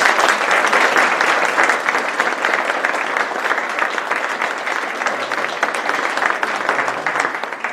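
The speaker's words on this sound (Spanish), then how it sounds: "Un fuerte aplauso." Sustained, dense applause from an audience at the 15th award ceremony of the Mexican Society of Watercolorists, steady and loud throughout with no speech over it.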